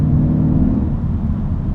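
A Mercedes C63 AMG engine holding a deep, steady rumbling drone, close and fairly loud, with no talking.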